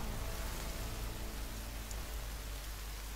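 Rain falls in the survival video game The Forest, a steady hiss of dense drops that stays even and fairly loud from start to finish, with no talking over it.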